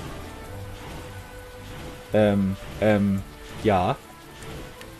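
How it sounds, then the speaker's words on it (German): Rain falling in the video game Ni No Kuni, a steady soft hiss of rain throughout, with a voice speaking briefly over it in a few short bursts. "Oh, hier regnet's."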